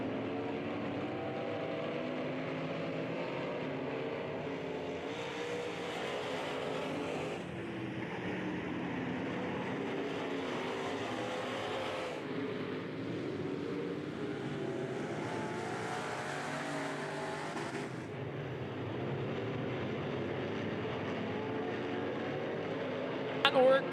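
IMCA modified race cars roaring around the RPM Speedway dirt track during a last chance race at the Fall Nationals, a continuous distant engine drone rising and falling as the pack circles.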